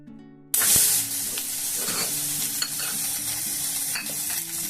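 Vegetables for shukto, such as eggplant, drop into hot oil with a sudden loud hiss, then settle into a steady close sizzle with stirring scrapes and a faint tonal hum behind.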